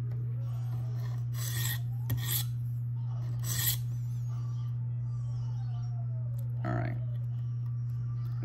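A Spyderco Police 4 knife with a K390 steel blade is drawn across a sharpening stone in a few short raspy strokes over a steady low hum.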